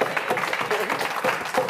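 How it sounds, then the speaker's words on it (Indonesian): A comedy roast audience claps and cheers for Dustin in a short burst of dense, moderately loud applause. "teman-teman, tepuk tangan buat Dustin."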